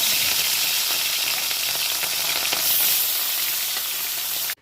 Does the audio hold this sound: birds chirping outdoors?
no